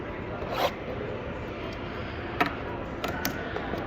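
A straight ripping cutter slices open a sports trading card box, giving a few short, sharp zip-like cuts over a steady background hum of a busy store.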